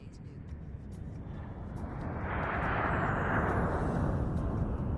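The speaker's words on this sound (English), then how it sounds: "A jet just took off." A jet airplane takes off, its broad roar swelling from a low rumble to a loud, sustained wash with no talk.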